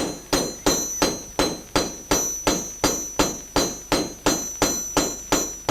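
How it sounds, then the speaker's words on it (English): A hammer strikes a strip of iron over and over on an anvil at a workbench, shaping it into a hoop. About fifteen sharp, ringing blows land in an even, steady rhythm, close and loud, with no speech. "With each strike, the iron is driven apart along one edge so that, combined with the curve, a conical widening forms."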